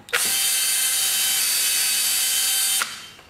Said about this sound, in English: drill two pilot holes.